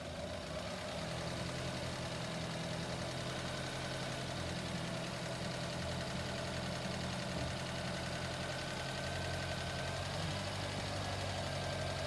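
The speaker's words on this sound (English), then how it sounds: "Let me give it some throttle." A Honda car engine runs steadily under throttle with a continuous hum and faint overtones, close and even in level throughout, with no speech.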